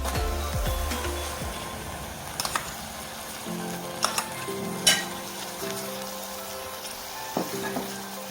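Chopped tomatoes frying with onions in a pan for Karnataka-style tomato bath, a moderate steady sizzle punctuated by a few sharp spatula scrapes and clicks.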